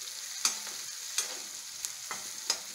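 Spices and asafoetida sautéing in hot oil for sambar, with a steady quiet sizzle and several sharp spoon scrapes against the pan at irregular intervals.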